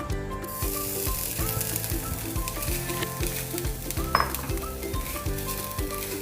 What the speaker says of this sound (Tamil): அடுத்தது நம்ம அதிலே தேங்காய் பூ போட்டுடலாம்.